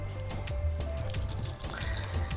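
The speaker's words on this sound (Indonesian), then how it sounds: "Tahap terakhir kita kocor lagi sebelum selesai semuanya." Water poured from a container onto soil around newly planted cassava cuttings in a backyard plot, a steady close splashing and trickling pour with soft dripping and wet squishes throughout.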